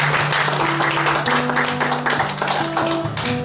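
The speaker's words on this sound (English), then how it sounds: "And give them another large round of applause." A church congregation applauds during a worship service, steady clapping under sustained organ or keyboard tones that shift pitch, the whole blend loud and close.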